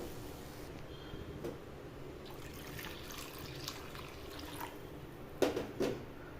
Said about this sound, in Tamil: இப்போ இந்த பேனில் தண்ணி சேர்த்துக்கலாம்.